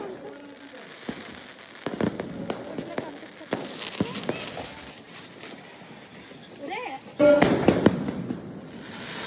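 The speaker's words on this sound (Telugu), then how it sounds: "క్రాకర్స్ కాల్చుకోవడానికి వెళ్ళిపోదాం" Diwali firecrackers bursting in scattered sharp cracks and pops, with a louder cluster of bangs near the end, while voices chatter in the background.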